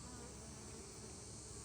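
Honeybees drone in a dense, continuous buzz from an opened hive full of young nurse bees, close and steady throughout with no voices.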